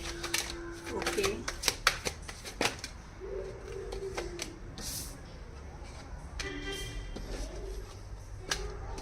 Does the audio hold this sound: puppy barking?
no